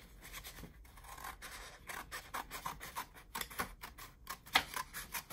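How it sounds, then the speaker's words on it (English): Scissors snip and scrape through card stock paper in a run of short, irregular crisp cuts, close and fairly quiet, with no voices. "All we're doing is cutting down into it"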